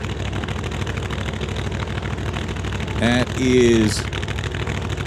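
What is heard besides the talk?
loud supercharged drag car engine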